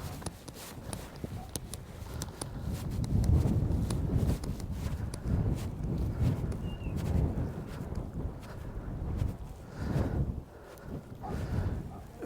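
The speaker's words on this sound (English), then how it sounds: "Very windy, people, up here on top of the mound." Strong gusting wind buffets the microphone atop a grassy passage tomb mound near the Irish Sea, a loud low roar that swells and eases throughout, with faint rustling and no clear speech.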